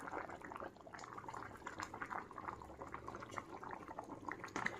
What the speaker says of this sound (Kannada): ಇದು ಕುದಿ ಹತ್ತೈತಲ್ಲ